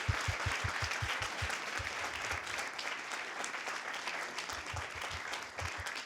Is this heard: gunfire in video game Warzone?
no